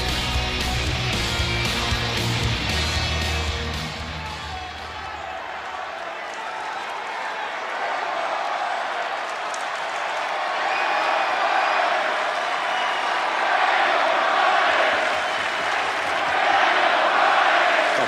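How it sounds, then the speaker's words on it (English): A festive crowd of nearly 15,000 fills a Chicago arena at WWE SmackDown, a broad continuous roar of cheering and clapping, with a commentator talking over it at the start. "Festive crowd here tonight in Chicago."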